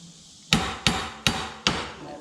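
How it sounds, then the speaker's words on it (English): Four hard hammer blows ring out on a stuck tie rod spindle of a 2016 EZGO RXV golf cart, sharp close metal-on-metal impacts after a short quiet start, with no voice. "hit that spindle."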